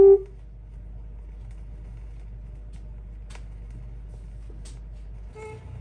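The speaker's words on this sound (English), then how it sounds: "The sound of this tone will tell you when to stop the record while you practice your presentation." A short electronic signal tone from a 1970 AMC dealer sales training record sounds at the very start, then only a low steady hum remains, with a couple of faint ticks and a small click near the end.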